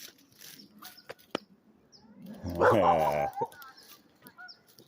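A dog gives a short whining, yelping vocalization amid quiet room noise, with a few faint clicks and thumps around it.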